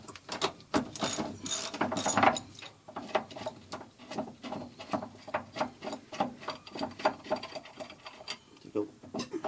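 Ratchet loosening a strut compressor on a 1998 Toyota Corolla front strut, a steady run of close, quiet clicking strokes with a regular rhythm and occasional voices in the background.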